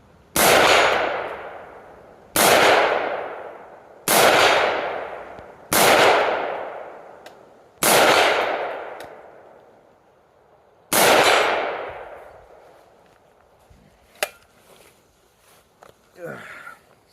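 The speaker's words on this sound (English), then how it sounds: "I'm going to shoot the gun a couple rounds" A 6.5 Grendel rifle fires six separate shots at a steel target 100 yards away. Each loud crack rings out and decays over about a second, with irregular gaps between shots. A few faint clicks and handling noises follow.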